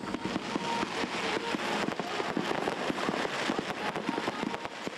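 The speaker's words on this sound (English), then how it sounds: "And the fireworks display didn't disappoint." A New Year fireworks display over the River Torrens in South Australia crackles and bangs continuously from a distance, with dense overlapping pops and rumbles and no talking.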